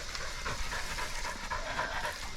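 Hunting dogs pant hard after catching a very fat pig in the scrub, a steady rapid rhythmic breathing that runs close and continuous with no pauses.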